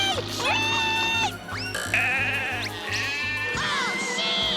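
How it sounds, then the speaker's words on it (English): Cartoon sheep bleat in a Woody Woodpecker scene, several wavering, quavering bleats in quick succession over a steady droning plane engine, loud and close with no speech. "Oh, sheep!"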